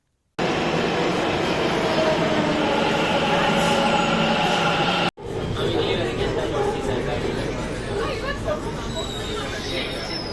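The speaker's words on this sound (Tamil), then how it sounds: "இப்போ நான் இருக்கிறது மெஜஸ்டிக்கில் இருக்கிற மெட்ரோ ஸ்டேஷன்." Metro train rumbling and whooshing through Majestic underground station in Bengaluru, loud and sustained, with a brief break and faint chatter and wheel squeal.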